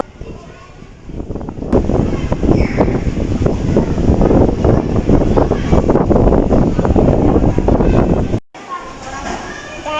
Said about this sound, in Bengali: এদিক দিয়ে তো প্রচন্ড পরিমাণের বাতাস শুরু হয়ে গেছে